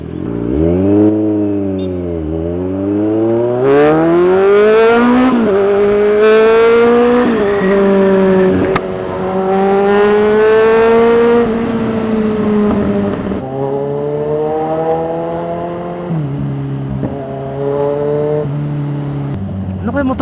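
A Kawasaki Z1000R sport motorcycle engine revs up and down loudly in long rising and falling sweeps for about twenty seconds, steady and close, with no talking.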